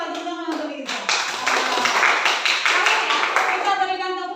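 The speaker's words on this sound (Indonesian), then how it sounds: "Kita berikan tepuk hebat untuk Riza dan Rahel" Classroom students clapping together in a rhythmic 'tepuk hebat' cheer, a quick burst of claps in a patterned beat, with a teacher's voice speaking before and after.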